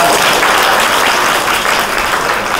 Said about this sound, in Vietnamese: Vỗ tay cái đi.